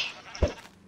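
A sheep bleats in a Minecraft-style survival multiplayer game, one short bleat that is moderately loud with a faint digital backdrop and no talk.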